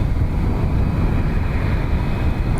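An Airbus A330-300 airliner at Dublin Airport, a loud continuous low engine roar and rumble, steady across the whole stretch with no voices.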